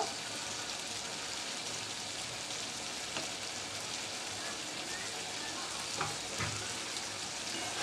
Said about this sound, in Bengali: হালকা একটু নাড়াচাড়া করে দিচ্ছি